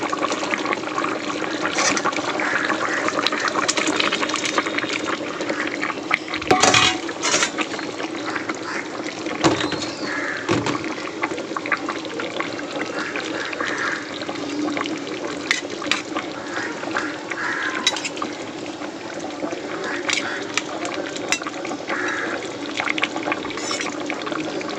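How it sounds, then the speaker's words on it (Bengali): Fish curry broth bubbling in a pot, a continuous low simmering wash with scattered pops and clicks, steady and moderately near throughout, with no talk over it. "মাছের ঝোল ফুটে গেছে, এবার ওর মধ্যে মাছগুলো আমি দিয়ে দেবো।"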